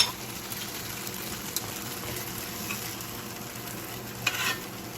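Tofu fries with spices in a pan, giving a steady close sizzle with soft stirring scrapes and a brief louder clatter near the end, with no talking.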